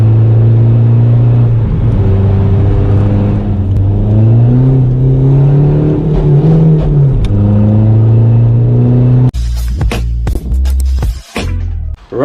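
A Seat Ibiza 1.9 TDI diesel fitted with an N75 boost control valve accelerates hard on back roads, its engine droning loud and close with rising and falling revs, then a burst of rough, choppy noise near the end.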